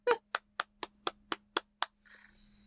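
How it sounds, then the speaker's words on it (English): One person claps alone in a quiet room, eight sharp, evenly spaced claps close by, followed by near silence. "Taylor was clapping."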